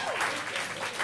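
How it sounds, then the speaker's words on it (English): Audience applause for a panel of guests at a live comedy night, a steady dense burst of clapping close by, with a faint trace of voices underneath. "how about another round of applause for the panel?"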